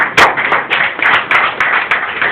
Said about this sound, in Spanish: Den un aplauso a Cristo de esta mañana.